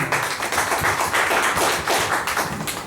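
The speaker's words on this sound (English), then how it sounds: "Ladies and gentlemen, please help me welcome him with a round of applause, Mr. Vinod." An audience at a club meeting gives a round of applause to welcome a speaker, a brief run of close, pulsing claps that swell and fade over a few seconds.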